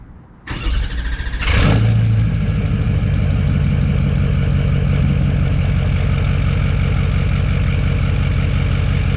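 A 2007.5 Dodge Ram pickup with a Cummins diesel and a new engine tune cranks and catches, then settles into a loud, steady, close rumbling idle that holds for several seconds with no talking.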